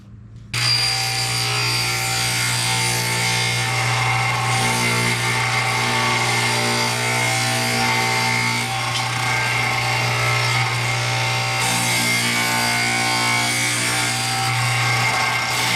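Portable table saw ripping a 19-inch wide piece of wood, a loud steady whining cut that runs continuously after a sharp start, with a brief change in tone partway through.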